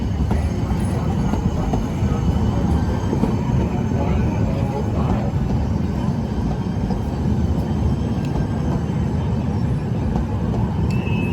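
An MTS Blue Line trolley train rolls past on its tracks in San Diego heading north, a loud continuous rumble and rail noise that holds steady from start to finish.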